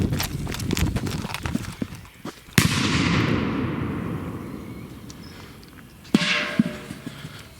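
A sharp firecracker bang under a metal pot rings out with a metallic clang and long decaying rumble, followed by a second smaller bang later, over scattered background clatter.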